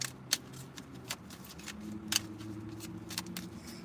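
A tarot card deck being shuffled close up, with a steady riffling rustle broken by sharp clicks and snaps of the cards.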